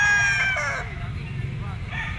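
A white-legged Kelso gamefowl rooster at an outdoor pet market crows once at close range. The crow is partly masked by a steady murmur of market voices.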